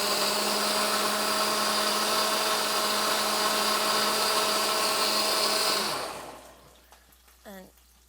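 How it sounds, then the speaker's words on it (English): A KitchenAid blender set to liquefy whirs through canned peeled tomatoes with a loud, steady high-pitched whine, then spins down and stops, leaving quiet room sound and a brief voice. "canned peeled tomatoes in our KitchenAid blender. And we're just going to hit liquefy"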